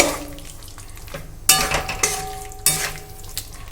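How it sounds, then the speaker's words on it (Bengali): Pointed gourd (potol) is stir-fried into spice masala in a pan, giving a close sizzle with sharp bursts of frying as the gourd is added and tossed, along with a few clinks of utensil against metal. "এই পটলটা কিন্তু এই মশলার মধ্যে অ্যাড করে দেবো সুন্দর করে মশলার সঙ্গে পটলটা কিন্তু কষে নেব"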